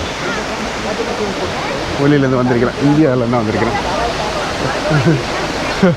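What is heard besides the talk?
waterfall in Badulla, Sri Lanka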